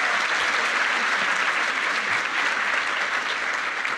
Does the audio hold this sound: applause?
yes